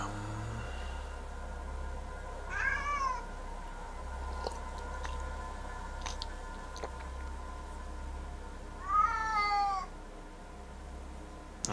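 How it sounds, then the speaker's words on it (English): A happy pet cat, nibbling on catnip, gives two drawn-out meows several seconds apart over soft indoor hum, with faint chewing clicks between them. "a happy cat. she's liking the catnip today, huh?"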